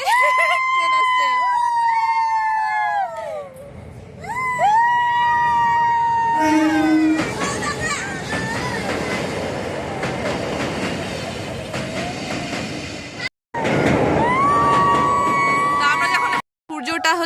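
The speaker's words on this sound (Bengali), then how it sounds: "দাঁড়াও, ট্রেন আসছে, অপেক্ষার অবস্থা শেষ।" A train arriving at a station in Darjeeling sounds several loud, drawn-out horn blasts over a rolling rumble and clatter of wheels on rails, with voices talking nearby.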